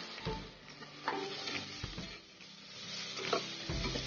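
Onions sautéing in a pan for coconut milk rice, a soft steady sizzle with occasional stirring scrapes and clinks, close and fairly quiet, with no talking.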